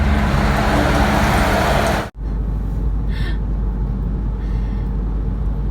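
Steady broadband road rumble and tyre roar from a car driving along the road toward Suvarnabhumi Airport in Thailand, continuous and fairly loud, with a brief dropout partway through and no talking.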